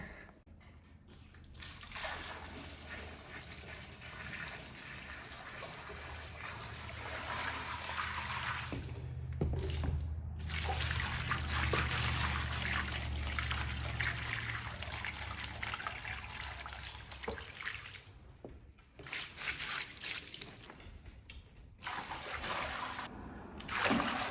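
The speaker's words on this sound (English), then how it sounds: "The only thing left to do is add the water." Water pours and trickles steadily onto a sealed curbless shower floor during a flood test, a continuous splashing flow that swells louder partway through, with no one talking.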